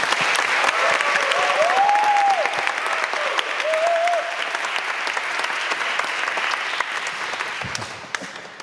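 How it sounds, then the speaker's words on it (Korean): Sustained audience applause at a Korean church testimony service in Boston, dense and steady, fading slightly toward the end with a brief voice underneath. "우리 큰 박수로 환영의 박수 부탁드립니다"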